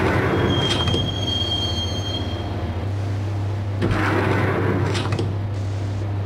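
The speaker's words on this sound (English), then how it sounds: "the train doors had already shut behind me, and I was in for the ride" Train in the Max Payne video game rolling on rails toward Roscoe Street Station, with a steady low rumble, a long high wheel squeal early on and sharp rail clanks near the end.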